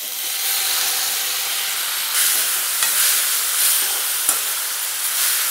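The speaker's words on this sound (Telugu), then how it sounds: "మనం వేసుకున్న ఆనియన్స్ అయితే ఫ్రై అయిపోయి టమాటా ముక్కలు అయితే వేసుకోవాలి." Onions and tomato pieces fry in a pan for tomato rice, a steady broadband sizzle with soft stirring scrapes and a couple of sharp utensil clicks, continuous and close with no voices.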